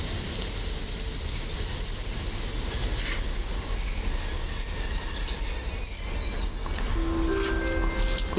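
TLK Małopolska train passing through Warszawa Zachodnia station during its modernization, a loud continuous rumble of rolling wheels with a sustained high wheel squeal running throughout and a few shifting tones near the end.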